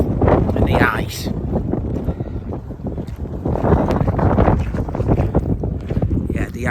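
Strong wind on Ben Lomond, a mountain with ice near the top, buffets the microphone in heavy, continuous low rumbling gusts, with a voice speaking underneath.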